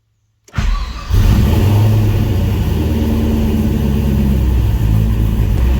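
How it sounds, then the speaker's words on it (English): A Nissan 240SX with an LS V8 swap cranks and fires after brief silence, then settles into a loud, steady rumbling idle with slight revving, close up and with no talking. "First thing I'm going to do is just hop in and start it"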